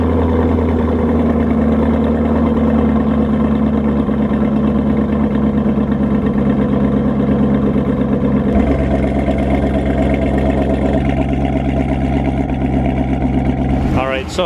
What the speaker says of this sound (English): We can officially start this car up